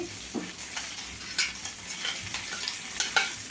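Stuffed brinjals fry in a pan while a spoon stirs them, producing a soft, steady sizzle broken by short scraping strokes and light clinks, close up and without speech.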